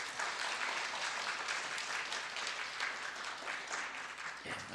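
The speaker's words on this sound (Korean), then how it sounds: "우리 다시 한번 성가대 귀한 찬양 우리가 하나님 앞에 감사하는 마음으로 박수 한번" A church congregation applauds the choir after its hymn of praise at an Easter-season Sunday service, a dense, steady wash of many hands clapping throughout, fairly soft and distant, with no talk over it.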